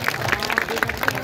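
An audience claps in a short burst of brief applause, the hand claps close and rhythmic over a murmuring crowd.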